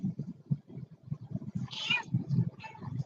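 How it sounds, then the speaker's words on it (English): A house cat meows once or twice, in a brief, fairly loud call heard over a steady background of low chatter during a UFC fight-night discussion livestream. "Oh, here's our Goon cat"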